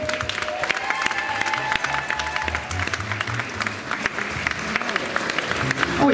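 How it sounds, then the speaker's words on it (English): Audience applause for a dance school's performance fills the hall in a steady, continuous roar of many hands, with voices and low background sound running underneath. "round of applause for Whittaker's Dance School."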